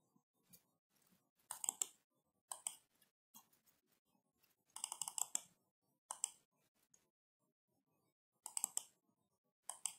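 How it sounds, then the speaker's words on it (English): Quiet bursts of keystrokes on a computer keyboard come in short irregular runs separated by pauses, faint and close with no voices. "Here you need to retype the title and the description."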